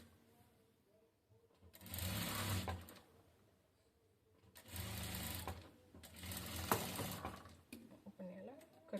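A sewing machine stitches a katori blouse in three loud bursts of rapid mechanical running, separated by quieter pauses, with no one talking over it.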